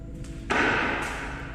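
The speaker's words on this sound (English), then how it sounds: "I'm actually hearing something banging on the door." Something bangs once against a door with a single muffled thud, followed by a lingering dull rumble in a quiet room.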